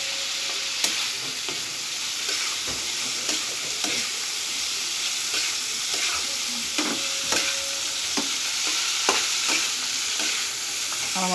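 Pangas fish curry sizzles and fries in a pan, with a steady hiss and repeated clinks and scrapes as it is stirred, close and alone with no voices.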